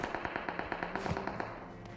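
Rapid automatic gunfire in the mobile game Battlegrounds Mobile India, a quick string of sharp evenly spaced shots lasting about two seconds, fairly faint and alone.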